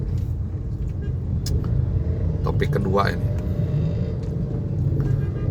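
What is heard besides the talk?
car traffic noise while stuck in a traffic jam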